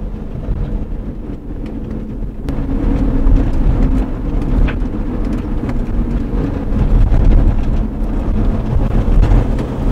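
A Sprinter van with a just-repaired DPF differential pressure fault drives along the road. A loud, continuous engine and road rumble swells slightly midway, with no talk.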